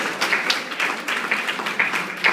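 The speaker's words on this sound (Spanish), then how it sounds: "Un aplauso fuerte para el Señor Jesús." Church congregation applauding during a sermon, a brief burst of dense clapping at moderate level with a few sharper claps standing out.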